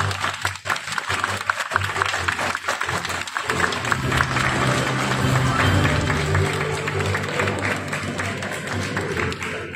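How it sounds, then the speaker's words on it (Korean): Congratulatory applause at an award ceremony at a Bandai fan expo in COEX, with a hall crowd clapping in a dense, continuous wash, a few sharper claps early and a low hum underneath. "축하 박수 부탁드리도록 하겠습니다."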